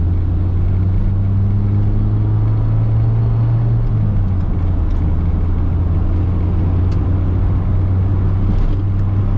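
A 1988 Mazda 323 with a manual gearbox drives along, its engine droning loud and steady close by, with the engine note dropping slightly about midway as it changes gear.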